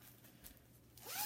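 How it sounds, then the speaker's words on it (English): A zipper on a handmade fabric bag being pulled open, a quiet scratchy run that speeds up into a brighter rising zip near the end, close by with no talking. "If I can find the zipper all the way open."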